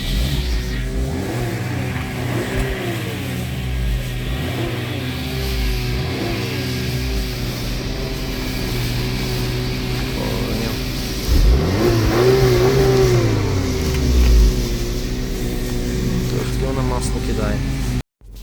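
A warmed-up 2014 Volkswagen Tiguan with all-wheel drive and an automatic gearbox idles and is revved several times, the engine note swelling and falling in repeated mid-pitched surges while people talk nearby.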